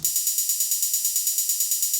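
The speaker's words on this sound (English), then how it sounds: "And then we have a third hi-hat like this." A crisp electronic hi-hat ticks in a steady, fast pattern, bright and evenly spaced with slight accents, playing alone.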